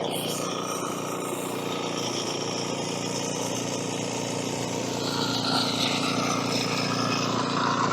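A smoky plate compactor pounds sand during floor preparation for a concrete pour in Thailand, its engine a loud, close, unbroken drone with a steady rattling buzz that holds level throughout.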